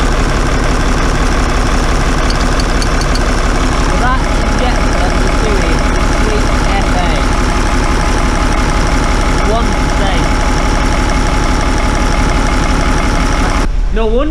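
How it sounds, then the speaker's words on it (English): A six-cylinder 4BT diesel engine idles while running on only four cylinders, giving a loud, steady, lumpy rumble that continues throughout and cuts out near the end. "We got a 6-cylinder engine running on 4."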